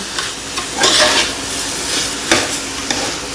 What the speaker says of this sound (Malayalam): നമുക്ക് നല്ലോണം മിക്സ് ചെയ്യാലോ